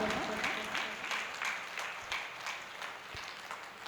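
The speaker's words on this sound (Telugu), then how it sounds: "ఒకసారి గట్టిగా చప్పట్లు కొడదాం." Sustained audience applause fills the room after a meditation session at a spiritual music gathering in Vanaparthi, a dense steady wash of many hands clapping at moderate loudness with no talk over it.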